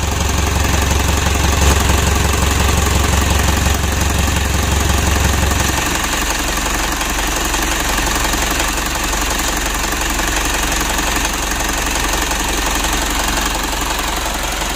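A rebuilt engine in a 2012 Mitsubishi Pajero Sport Dakar runs while warming up, a loud close steady diesel-like clatter and knock that drops in low rumble after a few seconds and continues idling.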